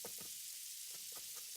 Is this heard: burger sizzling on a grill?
yes